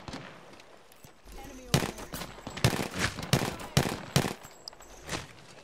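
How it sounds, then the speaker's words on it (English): Gunfire from distant enemies in an online shooter game: a string of sharp shots, some spaced and some in quick pairs, rising over a low background murmur. "Got two enemies over there shooting right now"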